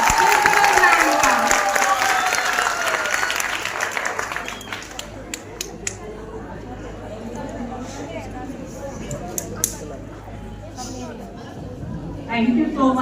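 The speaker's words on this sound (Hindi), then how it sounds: "जोरदार तालियों से स्वागत कीजिए प्रिंसिपल मैम का" A crowd of teachers and students claps to welcome the principal at a school farewell party, a loud burst of applause and chatter that fades into quieter murmuring and scattered voices.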